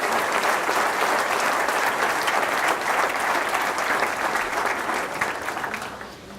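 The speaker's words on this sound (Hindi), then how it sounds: "जोरदार तालियां से" Loud applause from a church congregation during a Friday service, steady dense clapping that carries on for several seconds before thinning out and fading toward the end.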